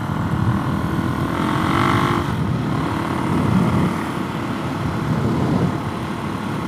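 Suzuki DRZ470S motorcycle engine running steadily on a break-in ride, a loud continuous drone with wind rush and slight rises and dips in revs, no voices over it.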